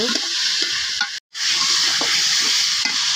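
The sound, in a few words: new potatoes sautéing in spice masala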